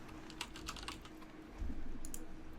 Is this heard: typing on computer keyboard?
yes